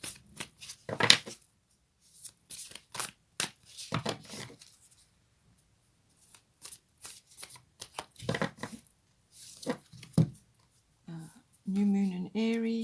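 A Moonology oracle card deck is shuffled in short, crisp bursts of flicking and riffling with quiet gaps between them. A voice speaks briefly near the end.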